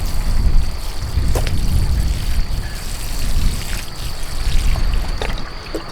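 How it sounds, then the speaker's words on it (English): Water trickles steadily onto newly planted plants and mint on a Portuguese homestead in the evening, a continuous close splashing mixed with rumbling wind noise, with no voices. "so I'll just pop a bit of water on them now"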